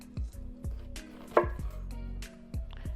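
A knife cuts through a shallot on a cutting board, giving several distinct close thuds with short pauses between them, one sharper crunch in the middle, and no talking.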